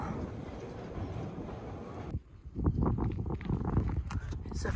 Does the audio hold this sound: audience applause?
no